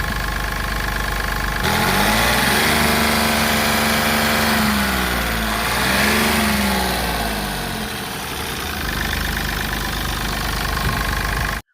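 A Mahindra Bolero seven-seater's engine runs steadily up close, a loud continuous rumble with a slight rise and fall in revs before cutting off abruptly at the end.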